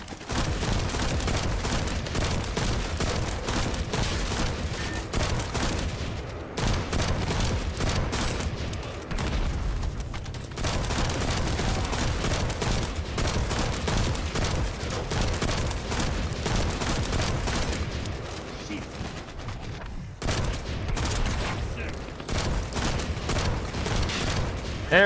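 Sustained bursts of heavy automatic gunfire rattle through a video game firefight, nearly continuous with brief pauses between volleys.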